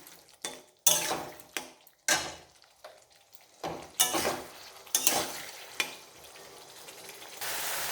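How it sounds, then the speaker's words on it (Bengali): Spice masala fries in oil in a pan while a spoon stirs it, giving intermittent scraping strokes and bursts of sizzle that rise and fall, with soft clinks of utensil on metal and no speech. "এবার নাড়াচাড়া দিয়ে নিই।"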